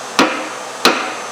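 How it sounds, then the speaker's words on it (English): A lead hammer strikes a metal part on a Sellers drill grinder rocker arm being reassembled in a workshop, two sharp close blows about two thirds of a second apart. "I'm going to take a lead hammer and see if I can"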